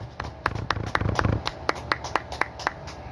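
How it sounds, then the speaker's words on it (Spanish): Congregation clapping in a church service, a burst of overlapping claps settling into a steady, rhythmic beat of distinct sharp claps, moderately close, with low murmuring underneath. "Démosle una alabanza de aplauso al que vive y reina"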